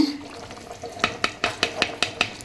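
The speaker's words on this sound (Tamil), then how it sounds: "தாளிப்பு நல்லா கிளறி விட்டுட்டு" A spoon stirs a tempering in a pan for chicken gravy, giving a quick run of about seven sharp scraping strokes over a light sizzle, close and clear, no voices.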